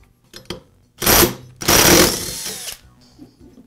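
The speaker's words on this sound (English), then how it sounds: "I'm going to use an impact to remove the flywheel nut" Impact wrench spinning the flywheel nut off a Poulan chainsaw with the cylinder bound, two loud sustained rattling bursts near the mic after a few faint clicks.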